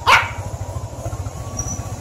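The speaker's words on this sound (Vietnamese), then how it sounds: "Con chó." A dog barks once, sharp and fairly close, on a jungle trail toward the Otuksa waterfall, followed by a quieter background with a steady low hum.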